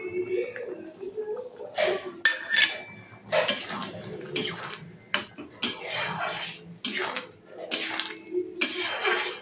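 A spoon stirs chana dal seasoned with garam masala in a cooking pot, giving about eight distinct scraping, clinking strokes in an uneven rhythm, close and moderately loud.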